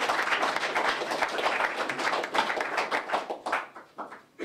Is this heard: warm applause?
yes